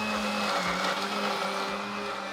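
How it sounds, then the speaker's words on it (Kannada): A roughly twenty-year-old kitchen mixer grinder runs at full speed, a loud continuous motor whine with a rough, rattling grind, heard close and alone. "ಮಿಕ್ಸಿ ಚೆನ್ನಾಗಿ ಗ್ರೈಂಡ್ ಮಾಡು."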